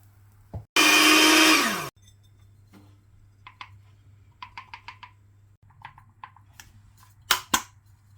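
A loud electric mixer grinder grinding flaxseed whirs for about a second in a short burst, followed by scattered clicks and faint knocks in a quiet room.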